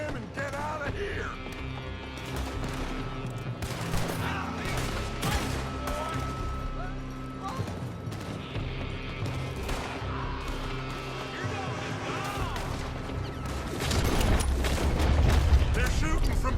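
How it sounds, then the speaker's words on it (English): Repeated gunshots ring out in a Red Dead Redemption 2 shootout, sharp cracks scattered irregularly over busy game sound, with heavier booming fire building near the end and voices talking throughout. "They're shooting from that building."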